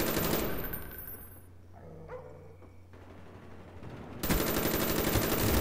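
A Galil rifle in Call of Duty fires a dense burst, goes quiet for a moment with faint clicks and handling sounds, then opens up again in sustained automatic fire.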